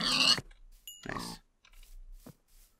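A pig in the Minecraft video game grunts and oinks in short separate bursts, three or four calls spaced across a few seconds with quiet gaps, fairly clear and close, no talking over them.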